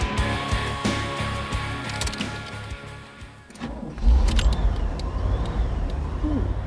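An Oldsmobile Indy pace car runs with a steady idling rumble, then the engine revs up louder and rougher partway through, close to the microphone, without speech.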